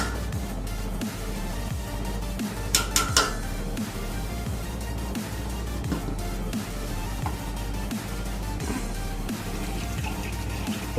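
A thick chicken harees mixture with ground pulse paste is stirred in a pot, steady scraping and clinking of a spoon against the metal repeating throughout with a low steady hum underneath, no talking.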